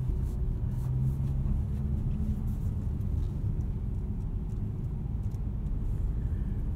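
A 2018 Mazda CX-3 driven on a winter road with traction control off gives a steady low cabin rumble of engine and tyre noise, constant and moderately quiet with no talk.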